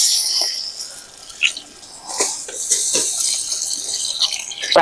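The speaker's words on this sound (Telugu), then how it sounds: "ఒక 2 గ్లాసుల నీళ్ళు వస్తున్నది." Two glasses of water are poured into a simmering pot of traditional Telangana bachali kura (Malabar spinach) curry, giving a close, steady splashing hiss with a few brief drips and surges.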